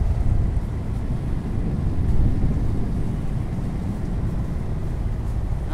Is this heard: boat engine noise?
yes